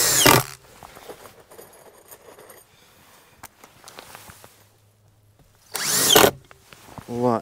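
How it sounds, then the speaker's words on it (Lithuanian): Power drill tightening bolts on the metal frame of a ventilated facade, two loud short whirring bursts at the start and near the end with quieter clicks and handling noise between. "čia aš pastebėjau, kad varžtai nesusukti, tai dasisukam varžtus"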